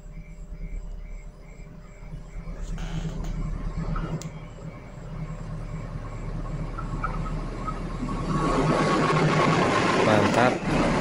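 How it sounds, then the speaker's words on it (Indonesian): A passenger train hauled by a diesel locomotive, its carriages stainless steel, rumbles past nearby, its low engine drone and wheel noise building louder toward the end, with a voice speaking over it. "Kereta api Lodaya lewat di sini di depan kita"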